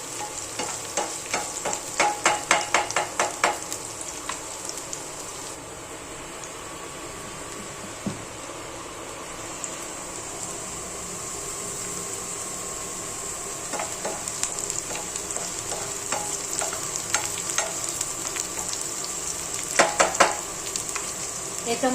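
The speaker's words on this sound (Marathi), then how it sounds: "ही रेड मिरची ना तेलामध्ये चांगली भाजून द्यायची. तेलामध्ये चांगली फ्राय झाली ना" Red chillies fry in oil for a peanut chutney, a steady close sizzle broken by bursts of rapid spatula scraping and clinking against the pan.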